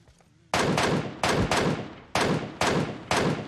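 Gunfire in the battle royale game PUBG Mobile: five loud, sharp weapon shots at roughly half-second intervals, each with a short decaying tail, close to the listener and without speech.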